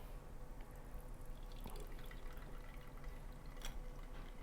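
Iced double-brew coffee drips and trickles through a pour-over dripper onto ice, a steady soft patter of liquid with a few brighter splashes, fairly faint and with no voices.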